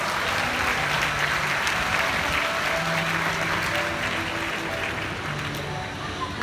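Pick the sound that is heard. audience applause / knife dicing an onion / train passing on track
audience applause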